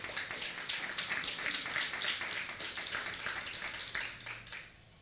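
A church congregation applauds together, a dense, even wash of many hands clapping at moderate distance, continuing steadily before tapering off.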